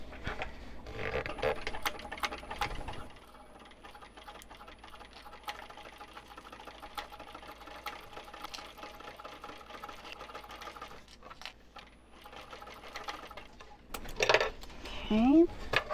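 A sewing machine runs at a steady rapid whir, basting a shoulder bag seam at a 1/8 inch allowance with a number 5 stitch length. It is close and continuous, with a few clinks and a short pause near the end.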